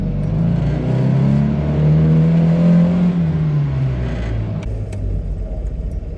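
A 1969 Mazda Carol drives along, its tiny engine revving up to a whirring peak and then easing off as it slows for a turn, heard from inside the car without talk.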